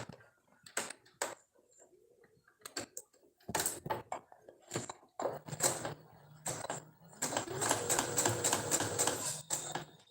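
A sewing machine stitches fabric for bell-bottom trousers in short bursts of rapid mechanical clatter separated by quiet pauses, ending in a longer sustained run of stitching.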